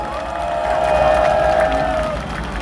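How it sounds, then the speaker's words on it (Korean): Crowd applause and cheering at an outdoor political rally protesting a presidential veto of a special counsel bill, a loud continuous wash of clapping and voices with a sustained shout rising through the middle before easing off. "여러분 참조탄에게 다시 한번 뜨거운 박수 부탁드립니다"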